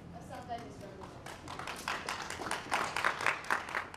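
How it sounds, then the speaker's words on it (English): A short, thin round of applause from a small band of BBC staff, scattered hand claps building gradually, fairly quiet and mixed with background voices. "A short round of applause from a small band of BBC staff"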